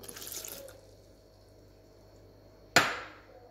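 Water is poured into a mixing bowl or food processor holding butter pieces and salt for homemade shortcrust pastry dough for an onion-leek quiche, a sudden close splash after quiet rustling.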